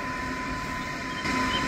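An automatic Alstom-built M2 metro train on the Lausanne line between Ouchy-Lac and Croisettes passes by, a steady rumbling hum with a faint tonal whine that swells slightly louder toward the end.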